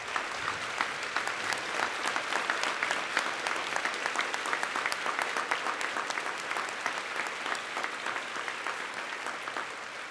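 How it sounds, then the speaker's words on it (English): A standing crowd at a high school Veterans Day memorial ceremony applauds veterans, with continuous, many-handed clapping that holds evenly for about ten seconds, moderately loud and spread across a large space. "everybody ought to stand and give them a round of applause"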